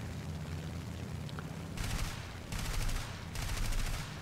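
Machine guns on a He 112 B-1 plane in War Thunder fire three bursts of rapid rattling shots over a steady low engine drone, each burst lasting under a second, fairly faint.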